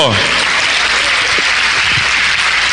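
A church congregation breaks into applause during a Holy Week sermon, a dense, loud, continuous roar of clapping filling the room, with a voice briefly heard at the start.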